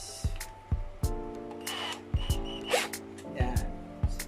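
An impact driver fires in short, sharp rattling bursts while a cheap guitar hanger is installed on a wall. The bursts come several times at irregular intervals, fairly close, with a person talking in between.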